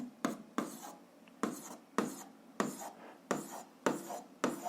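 Pen strokes of a physics answer being written by hand on paper, a run of about eight short scratchy bursts at a steady, uneven rhythm, close and fairly quiet, with no talking.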